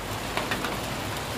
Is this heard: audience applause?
no